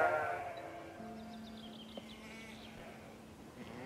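Sheep on a farm during lambing bleat at a distance, a faint wavering call rising over quiet outdoor ambience with a steady low hum.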